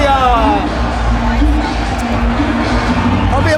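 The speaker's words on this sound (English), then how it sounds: "as loud as this crowd can get" Loud, continuous crowd roar and cheering fill a college wrestling dual arena, a dense wall of voices with whoops rising over it, steady throughout and close.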